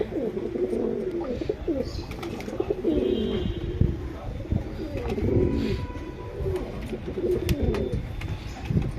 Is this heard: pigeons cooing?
yes